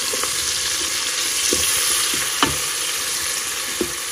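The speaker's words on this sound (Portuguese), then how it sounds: "Agora eu vou deixar ela refogar aqui, fritar bem, né?" Onion sautéing in a pan, a loud, even sizzle held up close for several seconds, broken by a few spatula scrapes and taps against the pan, with nobody speaking.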